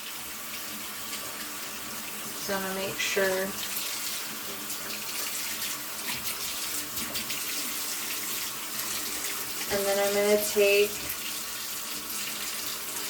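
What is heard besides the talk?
water running from a tap during handwashing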